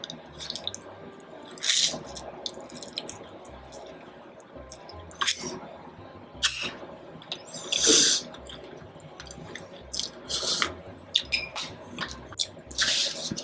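Eating for a mukbang brings loud, wet slurps and squishy bursts close to the microphone. They come in irregular clusters with quieter pauses between them.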